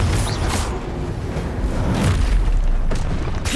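A Confringo fire spell bursts in Hogwarts Legacy, a loud continuous booming explosion with rumbling, crackling debris and layered blasts filling the whole moment, no talk.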